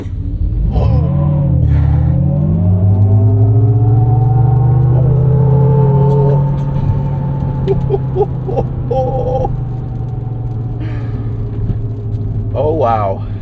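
A 2024 GMC Hummer SUV, a 9000-pound vehicle, accelerating at full throttle on a highway: a loud, steady low rumble with rising whining tones, and voices talking over it.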